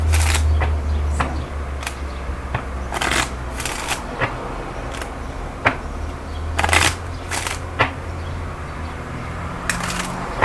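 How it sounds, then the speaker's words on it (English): Tarot cards being shuffled by hand in a quiet room, giving repeated soft riffling bursts and flutters at an uneven pace over a steady low hum. "I guess I should stop shuffling, right?"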